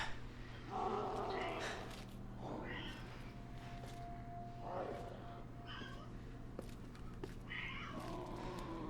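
A pet cat meows several times in a room, with short, fairly close cries spaced a second or two apart over a steady low hum and a faint voice.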